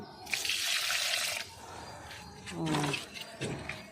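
Water splashes and pours steadily onto potted plants in a terrace garden for a moment, then comes in shorter gushes, with a brief voice in between.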